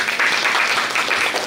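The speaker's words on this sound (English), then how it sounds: "Please join me in welcoming Dr. Amresh Singh sir with a warm round of applause" Warm applause from an audience at a neuroscience conference session, a loud, dense and steady wash of clapping throughout with no voices over it.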